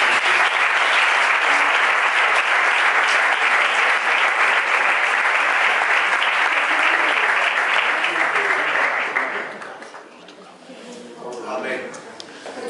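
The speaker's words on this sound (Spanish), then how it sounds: "un aplauso al Señor" A church congregation applauds loudly and steadily for about nine seconds before the clapping fades into scattered claps and background voices.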